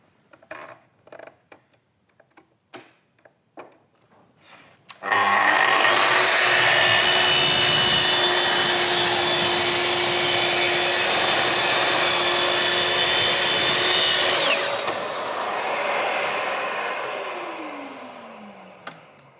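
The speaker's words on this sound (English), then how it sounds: "for chipboard that's veneered, then we're going to set it on speed 5, and we can make a nice, consistent, easy progress through the cut" A Festool TS55 circular saw set to speed 5 cuts through veneered chipboard with a loud, even high-pitched whine held for about ten seconds, then winds down. It follows a few sharp clicks and taps as the saw is set up.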